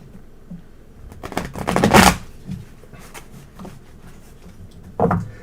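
Tarot cards are shuffled in a few quick riffling bursts, loudest around the middle with a final riffle near the end, crisp and close, separated by quiet pauses.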